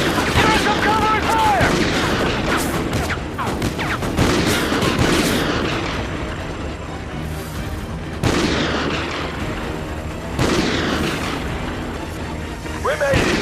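Heavy gunfire in Call of Duty Ghosts, with bursts of close shots, booming blasts and ongoing battle noise, while soldiers shout over the fighting.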